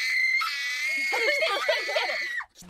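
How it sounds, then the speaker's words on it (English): A Japanese voice actress delivers Bocchi's glitchy anime scream almost unedited, a loud, strained, wavering high-pitched shriek with warbling, broken textures that cuts off abruptly near the end. "the Japanese voice actress for Bocchi did the glitch scream mostly unedited"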